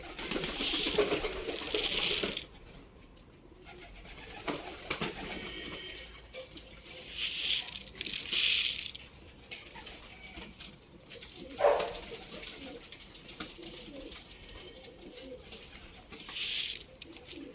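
Pigeons let out of a backyard coop, with bursts of wing flapping and fluttering near and far and soft cooing, alongside a trickle of water and faint background noise.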